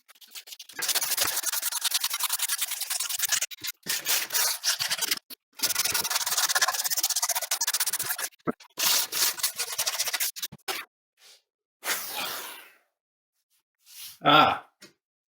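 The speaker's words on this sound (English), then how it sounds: "we're going to get back to sanding it" A prop sword is sanded by hand in long bursts of coarse, rasping strokes, close and fairly loud, broken by short pauses and a few scattered bumps toward the end.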